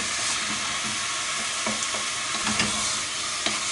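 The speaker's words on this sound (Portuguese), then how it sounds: "E a gente está dando uma refogada aqui" Onion and garlic sizzling in a hot pan, with intermittent scraping and stirring clicks over a steady frying crackle; no talking.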